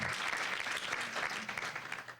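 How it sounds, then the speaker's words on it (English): A short burst of audience applause at a business gathering, moderately distant and steady, many hands clapping together for a couple of seconds with no voices. "So give yourself a round of applause."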